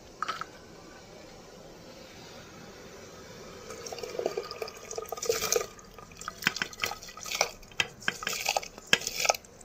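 Rice tipped into a pot of hot water, with soft rustling and pouring, then a run of watery splashes, drips and light clinks against the pot that grow busier toward the end, close and fairly quiet.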